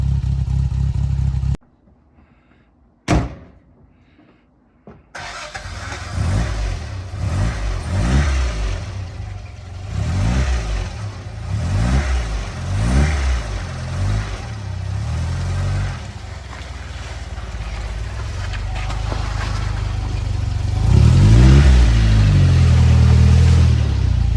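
A 1962 Triumph TR4 starts after a brief silence, then warms up with a loud, close engine, revved in repeated rising and falling bursts before a stronger run near the end.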